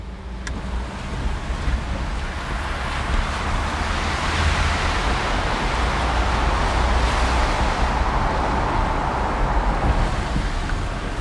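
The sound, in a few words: Tata Nexon EV electric car driving sound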